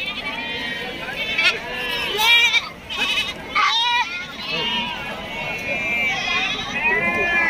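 Goats bleat repeatedly at a crowded goat market, several loud wavering calls overlapping one another above a busy murmur of people talking throughout.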